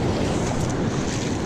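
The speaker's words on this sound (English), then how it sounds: "The ocean is bound and determined to get salt water in the reel today." Ocean surf at high tide on the Oregon coast, recorded while surf fishing in ankle-deep water, a continuous loud roar of waves mixed with wind buffeting the microphone, no voices.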